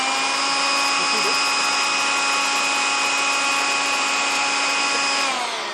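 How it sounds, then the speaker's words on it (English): A blower or hair dryer runs steadily at high speed with a whining motor tone, driving a motor that works as a generator, a loud continuous drone that cuts off near the end. "So what we do is we take a blower."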